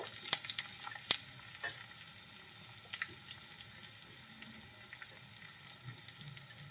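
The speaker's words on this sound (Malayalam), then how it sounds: "കടുക് പൊട്ടുമ്പോഴേക്കും നമുക്ക് കുറച്ച് ഒരു 2-3 വറ്റൽമുളക് ഇട്ട് കൊടുക്കാം." Mustard seeds, dried red chillies and chopped shallots fry in hot oil for a Kerala fish curry, a steady soft sizzle broken by sharp popping crackles from the seeds, quiet and close with no talking.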